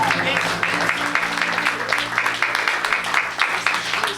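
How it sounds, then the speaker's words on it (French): A church congregation at a Sunday prophetic worship service applauds and cheers in praise, loud continuous clapping and voices with a low droning organ-like tone beneath. "donne-moi une grande acclamation pour la gloire de Jésus de Nazareth."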